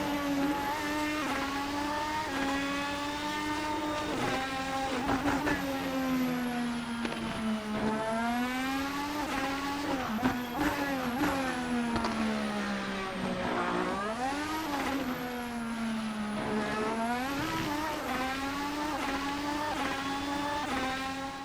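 A high-revving RSS Formula Hybrid 2025 race car engine in a racing simulator screams continuously, pitch rising and falling through gear shifts and corners, loud and sustained with no voices.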